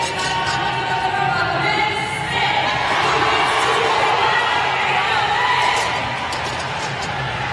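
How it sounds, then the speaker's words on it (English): A large arena crowd roars and cheers at the 2016 CrossFit Atlantic Regional in Atlanta during a heavy barbell snatch event, a dense, sustained wash of noise that swells in the middle and eases toward the end. "that roar that you heard from the crowd here in Atlanta"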